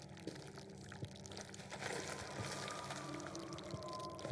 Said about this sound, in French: On est reparti avec les petits bruits,